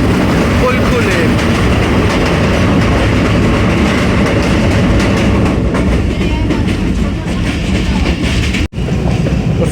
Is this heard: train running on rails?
yes